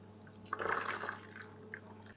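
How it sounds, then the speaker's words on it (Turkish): Homemade bone broth made with marrow bones is strained in a kitchen, giving a soft, brief pour and drip of liquid, with a steady low hum running under it. "Kemik suyumuzu süzüyoruz."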